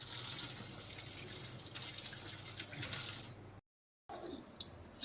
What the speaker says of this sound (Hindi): तो यहाँ पर इसका जो पूरा पानी है वो मैंने निकाल लिया है